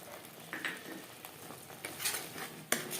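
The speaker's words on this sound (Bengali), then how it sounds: "মশলার সাথে গুঁড়ো মশলা বেশ ভালো করে মিক্স করে দেবো" Ground spices, salt, chili and turmeric are stirred into cabbage paneer in a pan, a quiet sizzle broken by soft clinks and scrapes of a spoon against the metal.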